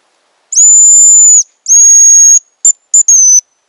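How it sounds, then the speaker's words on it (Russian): A hunting decoy whistle for game birds sounds loud and close: two long, clear high-pitched whistled notes followed by a quick run of short chirps, alone against silence. "они свистят вообще отменно"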